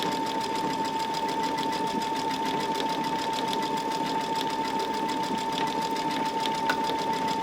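A sewing machine runs a decorative stitch pattern on a purse organizer, giving a steady continuous mechanical hum with a rapid rhythmic needle beat, close and alone without talk.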